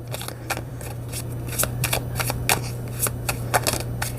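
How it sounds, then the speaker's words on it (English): Tarot cards are shuffled in a quick run of crisp riffling slaps over a steady low electrical hum. "Do one more shuffle through this,"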